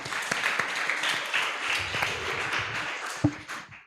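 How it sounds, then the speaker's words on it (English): A conference audience applauds a youth speaker, a short burst of steady clapping that thins out and fades by the end. "Round of applause, please."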